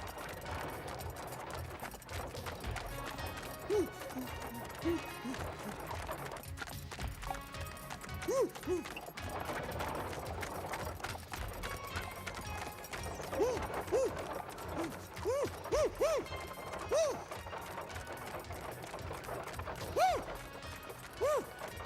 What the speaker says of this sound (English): Stop the carriage!